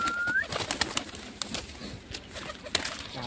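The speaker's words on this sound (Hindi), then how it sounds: "यहाँ पे आ चुके हैं अपने सारे कबूतर, दौड़ाते हैं थोड़ा" Domestic pigeons released from their coop coo softly and flap their wings nearby, a brief whistle-like tone at the start and scattered rustles and flutters throughout, with no talking.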